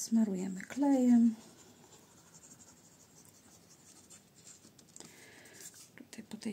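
Glue is spread across paper album pages with soft, close scratching strokes. The scraping is faint after a short burst of voice at the start.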